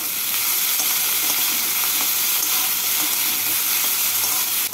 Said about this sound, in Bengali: প্রথমে করলাগুলোকে ভেজে তুলে নেব